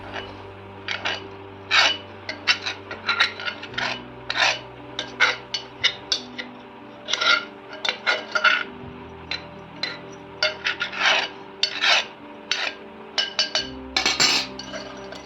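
Wheat-ear ladoo filling is scraped and scooped out of a pot into another vessel with a utensil, giving repeated rasping scrapes and light metallic clinks in irregular bursts, close up, with no talking.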